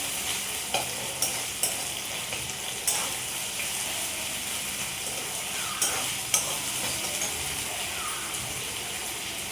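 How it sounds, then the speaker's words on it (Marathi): Chopped onion sizzling steadily in an oiled pan for egg noodles, with sharp scraping clicks of a spatula stirring at irregular intervals, close and continuous with no talking. "आता कांदा टाकला, ते पण आता फ्राय करून घेऊ आपण."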